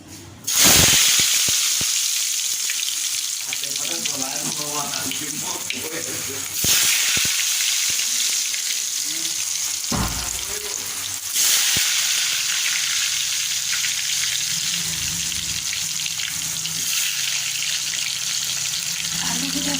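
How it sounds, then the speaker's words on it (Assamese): Potatoes dropped into hot oil fry with a loud, rushing sizzle that surges in bursts as more pieces go in, close by, with a voice speaking briefly in places. "আমি ভালকৈ ফ্ৰাই কৰি ল'ম"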